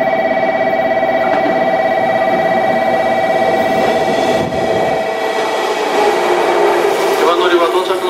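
A JR Kyushu 415 series 100 steel electric AC/DC commuter train arriving at a station, a steady mechanical hum with tonal whine and a departure chime, under a platform announcement in Japanese.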